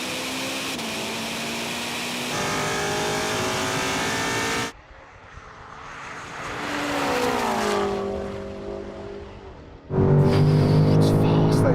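A Ferrari and a 1000-horsepower BMW M5 in a third-gear rolling drag race from 50, with loud sustained engine roar rising in pitch through the gears, a sharp drop, then a new engine note surging in.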